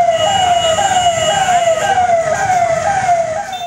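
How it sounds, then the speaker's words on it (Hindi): A police siren wails steadily during a police flag march through Ranchi streets, loud and close, its rising and falling tone continuous with no talk over it. "पुलिस की यह सायरन रांची की है।"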